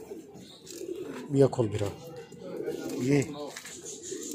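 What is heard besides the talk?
Laal Zard Adwaar Chap pigeons cooing in breeding coop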